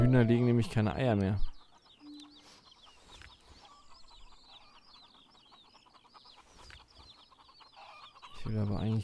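Chickens cluck in a farm video game, Pure Farming 2018, a flock of busy overlapping clucks at moderate level between stretches of someone talking at the start and end.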